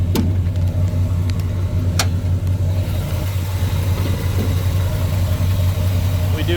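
A carbureted small block Chevy V8 with electric choke in a 1972 Chevrolet C30 stepside truck idles steadily at close range, a loud continuous low rumble with a couple of faint clicks.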